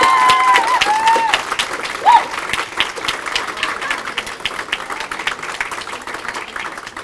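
Applause for poets at a school poetry slam, a steady crowd clapping that stays fairly even for about seven seconds, with a brief voice or whoop rising near two seconds.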